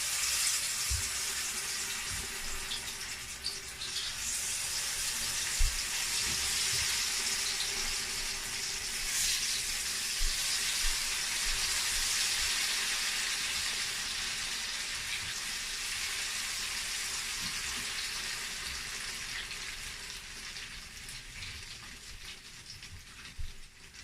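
Akara bean batter frying in hot oil, a loud continuous hiss and sizzle holding steady for the whole stretch with occasional small pops, close by and without talk.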